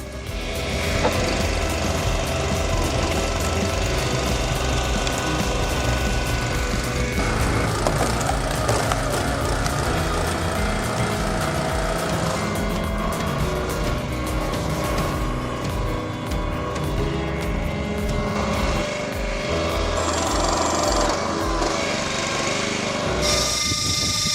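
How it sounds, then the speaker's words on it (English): An automatic firewood splitter machine built for massive logs: a loud, continuous engine drone with mechanical clanking and shifting tones, running steadily throughout. "Watch as we test this game-changing machine and show why it's a must-have for firewood processing."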